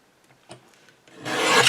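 Embossed paper card stock is trimmed along its border, a few faint taps and then a louder rasping cut that swells toward the end, close and with no talk.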